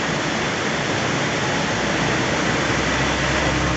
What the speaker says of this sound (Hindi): आप लोग यहाँ पर देख सकते हैं ये पानी का कितना बहाव है